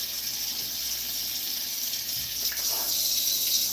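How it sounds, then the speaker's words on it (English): Tap water runs steadily into a colander set in a kitchen sink with a bucket nearby, a constant close splashing hiss that carries on alone with no voices. "Go ahead and run some water in there."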